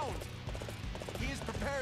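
Horse hooves clip-clop in the Dynasty Warriors 8 Xtreme Legends video game, a quick rhythmic trot under steady battle music and effects over about two seconds.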